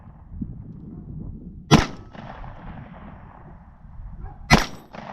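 Two loud, sharp gunshots at an outdoor shooting range, several seconds apart, each striking a steel target with a brief metallic ring over a low background rumble.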